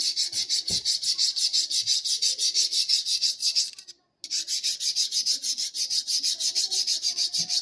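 Tailoring scissors being sharpened by rubbing the blades together, a steady rapid rasping scrape repeating in a fast even rhythm, close and loud, with one brief pause midway.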